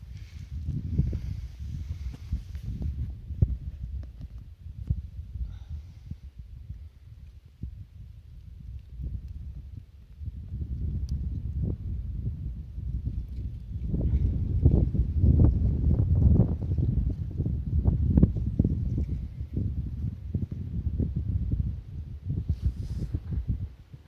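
Steady outdoor wind on a hilltop in eastern Pennsylvania rumbles and buffets the microphone, rising and gusting stronger in the second half, with no one talking.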